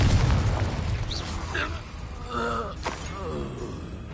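A Confringo explosive spell blasts in Hogwarts Legacy, a short booming burst set among game effects and grunting voices, fairly loud and quickly fading into lingering rumble.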